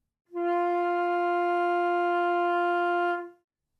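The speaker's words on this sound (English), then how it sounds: "To finger F natural in the first octave," A flute holds a single steady F natural in the first octave, a pure sustained tone with clean harmonics lasting about three seconds before fading off, played alone in a quiet room.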